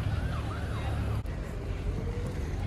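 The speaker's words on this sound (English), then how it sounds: "Sirens, cars," Emergency vehicle siren wailing in city traffic, its rising and falling tone fairly distant over a steady rumble of passing cars.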